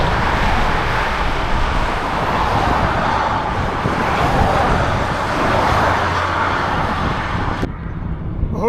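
Traffic on a mountain road in Slovakia roars past in a continuous, loud wash of tyre and engine noise, with vehicles blending together before it cuts off sharply near the end.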